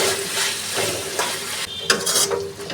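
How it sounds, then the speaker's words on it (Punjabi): Potatoes roasting with onion and garlic in a pan for a potato and French bean curry give a steady close sizzle, broken by a few scraping stirs. "5 ਮਿੰਟ ਆਪਾਂ ਇਸ ਤਰ੍ਹਾਂ ਹੀ ਆਲੂਆਂ ਨੂੰ ਪਿਆਜ਼ ਲਸਣ ਦੇ ਨਾਲ ਭੁੰਨਾਂਗੇ"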